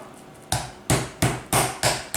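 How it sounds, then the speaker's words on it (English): A meat hammer pounds meat covered in cling wrap in five evenly spaced, sharp, close thuds, each followed by a short decay, with no talking. "I'm gonna use the glad wrap, clean wrap, whatever you wanna call, and I'm gonna put underneath and cover it off. And I'm gonna use the hammer."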